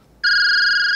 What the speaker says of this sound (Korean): 이번엔 미호한테 전화가 오네